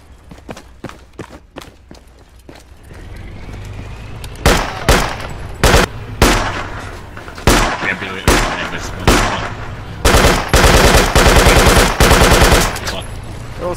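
Machine gun fire in a tactical shooter video game: bursts of rapid automatic shots and single cracks, sparse at first, then louder sustained volleys, with a long continuous burst near the end.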